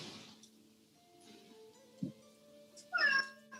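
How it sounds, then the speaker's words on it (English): A cat gives a short, faint meow, then a louder, rising meow near the end, heard close in a quiet room over low background hum. "A cat comes and sits on an empty chair"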